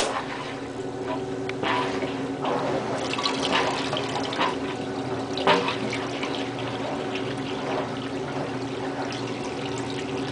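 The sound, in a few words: Maytag washing machine draining water through holes onto the floor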